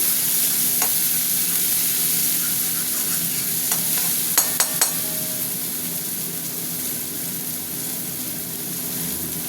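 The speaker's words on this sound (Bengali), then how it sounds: "পেঁয়াজটা একটু ভাজা ভাজা হোক" Chopped onions fry in a little oil with dried red chilies in a pan: a continuous sizzle, with a short cluster of sharp spoon scrapes and clinks partway through.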